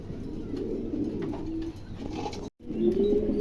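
A pair of pigeons cooing close by at a pigeon market, soft repeated low coos running almost continuously with a brief cut near the end, no talk over them.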